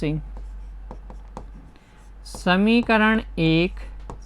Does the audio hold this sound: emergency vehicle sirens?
no